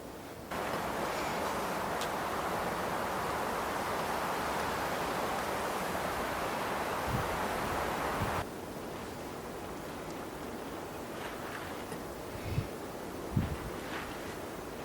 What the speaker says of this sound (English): that wind keeps gusting up and blowing it around